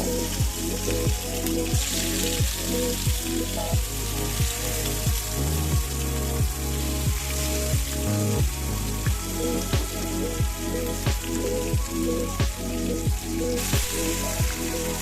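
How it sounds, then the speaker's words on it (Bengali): Pomfret fish shallow-fry in hot mustard oil with a continuous dense crackle and sizzle, steady and close throughout, while a loud rhythmic tone with regular beats plays over it. "সরিষার তেলটাকে খুব ভালোভাবে গরম করে নিয়ে তারপর আমি সেটার ভিতরে মাছগুলোকে ভেজে নিচ্ছি"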